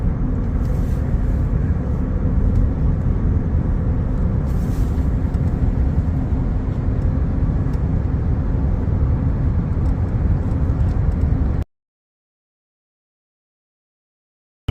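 A Ford Raptor pickup truck drives along with a loud, steady low engine and road roar close by, droning evenly before cutting off abruptly to silence near the end.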